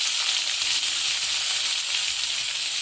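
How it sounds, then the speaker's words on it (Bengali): Chopped onions frying in hot oil for an egg and broccoli curry: a close, steady, loud sizzle with a bright hiss and no pauses or voices. "পেঁয়াজটাকে ভালো করে ভাজা হচ্ছে।"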